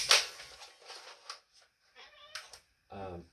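A house cat gives a short, close meow near the end, after a run of clicks and handling noises.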